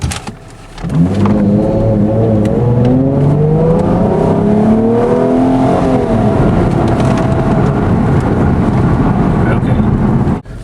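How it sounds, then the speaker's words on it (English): A 2007 Hyundai Entourage minivan with a 3.8 engine accelerates hard from inside the cabin, engine pitch climbing steadily under a loud continuous drone before settling, with no talk. "And now we're going to accelerate real hard."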